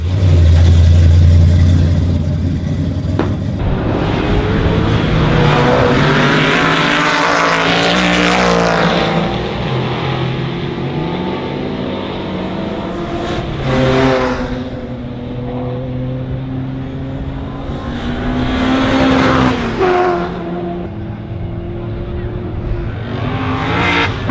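1960s GT race cars such as a Ferrari 250 LM, Maseratis, Mustang GT350s, Jaguar E-Types and Cobras roar past at Goodwood, loud engines rising and falling in repeated close passes.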